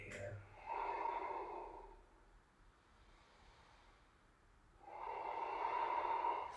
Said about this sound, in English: Three more deep Ujjayi breaths.